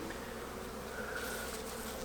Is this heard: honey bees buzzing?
yes